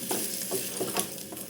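Soft, steady sizzling of cashews frying on low heat in a pan, with light scraping and stirring taps throughout.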